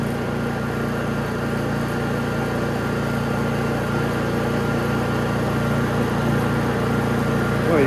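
A Honda EU3000is inverter generator with a propane kit runs at a steady idle, a constant close mechanical hum and drone with a faint pulsing quality, unchanging throughout.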